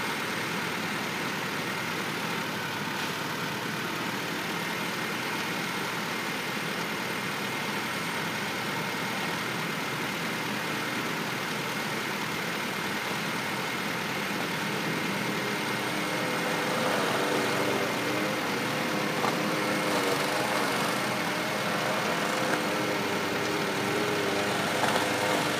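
A 2007 Honda Civic with a 1.8-litre engine idles steadily, a constant even hum and rumble heard close and uninterrupted with no voices.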